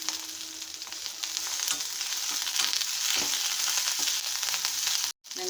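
Onions, tamarind and coriander leaves fry in a pan with a continuous crackling sizzle and occasional stirring scrapes, close and moderately loud, cutting out briefly near the end; no voices.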